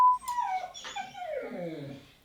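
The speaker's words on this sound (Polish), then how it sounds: "Słyszeliście tego psa?" A dog nearby gives a drawn-out, falling whine that turns into a howling yelp, loud and plaintive, with no talking over it.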